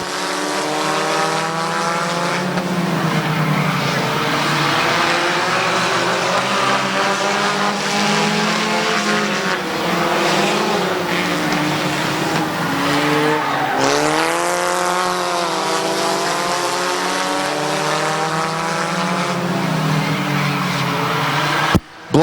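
Race cars roar continuously around a small, unbanked oval speedway during a short-track race, engines whining and rising and falling in pitch as they pass through the turns, loud and close throughout.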